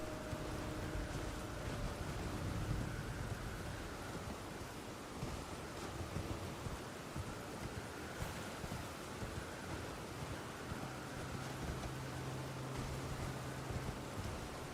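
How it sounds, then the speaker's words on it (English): Wind and rain in the Elden Ring video game, a steady broadband wash of rainfall and gusting wind that carries on unbroken throughout, with no voices. "all this wind and rain is going to kill my bitrate on YouTube"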